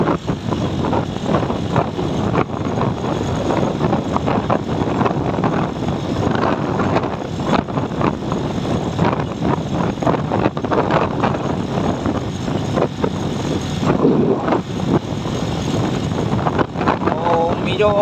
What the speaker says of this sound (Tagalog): Medyo mahangin-hangin mga kawalay. Mahangin-hangin yung malagit yung hangin.